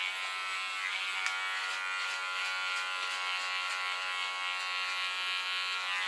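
An electric hair clipper shaves the nape and side of a short bob, a steady close high-pitched buzz that holds without a break, with faint rhythmic ticks as it moves through the hair and no talking.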